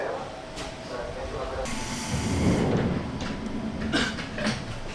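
An LRT train pulls into a station at night, with rumbling wheels, mechanical clatter and a bright hiss rising midway, moderately loud and close, with faint background voices.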